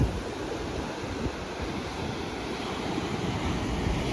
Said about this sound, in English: Ooh, look at those waves.